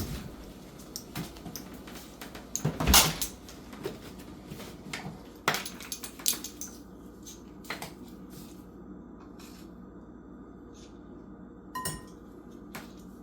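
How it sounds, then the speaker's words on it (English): A metal bench scraper leveling baking powder in a teaspoon, giving scattered light clinks and taps of metal on metal, one louder clatter early, then sparse quiet knocks. "I'm using my bench scraper to level it out perfectly"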